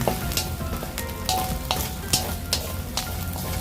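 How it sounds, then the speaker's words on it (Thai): Frog pieces stir-fried in a little oil for a spicy dry Thai frog dish, sizzling steadily and close up, with repeated scraping strokes of the spatula against the pan and no talking. "ผัดไปเรื่อยๆนะครับ ให้มันหอมเลยครับ ผัดจนแบบมันแตกหอมเลยนะครับกับน้ำมัน"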